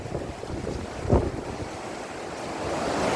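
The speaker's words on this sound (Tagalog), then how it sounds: "Ang lalaki ng alon" Big sea waves roll in at Boulevard Molo in Iloilo City, a steady wash of surf under heavy wind buffeting, with one closer splash partway through.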